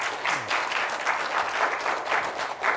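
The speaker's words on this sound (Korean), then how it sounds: "박수로 맞아주십시오." Audience applause welcoming a university professor to the stage for a history lecture at a Korean high school, steady dense clapping from a hall crowd, moderately loud and continuous throughout with no talking.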